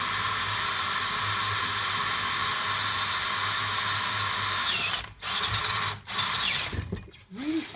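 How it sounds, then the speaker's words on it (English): An electric drill bores into a locker differential part, a steady high whine running for about five seconds, then cutting out in short abrupt stops and snags as the bit catches in the pocketed metal. "So the drill just picks up. It's drilling lovely 1 minute and then it just snags"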